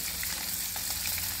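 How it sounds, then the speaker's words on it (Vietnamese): Battered climbing perch sizzles steadily in hot oil as it is deep-fried until crispy, a dense, continuous crackle close by with no voices over it. "Đây đang chiên cá luôn."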